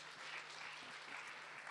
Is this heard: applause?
yes